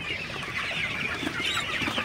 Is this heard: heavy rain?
no